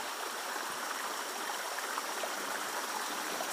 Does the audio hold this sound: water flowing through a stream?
yes